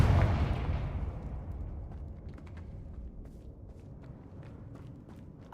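A Confringo blasting spell cast in Hogwarts Legacy bursts with a loud, deep boom at the start, then rumbles and fades away, leaving scattered small crackles and debris sounds.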